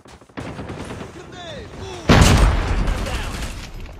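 A frag grenade thrown and exploding in Call of Duty Mobile: scattered gunfire first, then a sudden loud nearby blast whose rumble lingers, with game voice lines and a shout around it.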